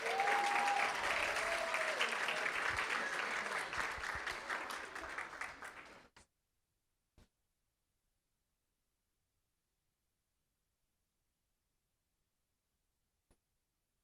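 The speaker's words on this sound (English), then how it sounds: "If we can please give him a round of applause." Audience applause fills a school board meeting room, steady and dense for about six seconds before fading out, followed by near silence broken by a few faint isolated thumps.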